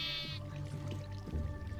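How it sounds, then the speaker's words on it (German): Sheep bleating in the video game Minecraft, a brief, fairly loud, wavering baa with a fainter second bleat, over soft game background sound. "Ich lenke immer noch die Schafe hier ab."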